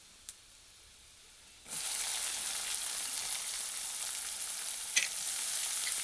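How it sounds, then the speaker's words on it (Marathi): Finely chopped onion hits hot oil over roasted garlic in a tempering for a village-style chickpea usal, setting off a sudden, loud, steady sizzle after a quiet start, close and continuous, with one brief clink. "बारीक चिरलेला कांदा त्यावरती परतून घ्यायचा आहे"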